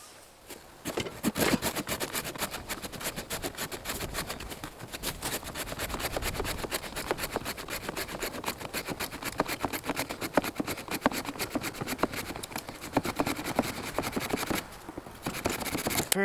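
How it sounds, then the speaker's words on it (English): Coleman 7-inch folding saw cutting through wood, a steady run of rapid rasping back-and-forth strokes, close and loud, with no speech throughout. "Next up is our Coleman 7-inch folding saw."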